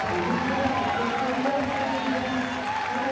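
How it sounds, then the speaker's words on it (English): A French home crowd roars and cheers without pause in an athletics stadium during a men's 400m T12 semifinal at the 2013 IPC Athletics World Championships. The sound is a loud, dense, continuous wash with no voice cutting through. "Listen to this roar from the French crowd."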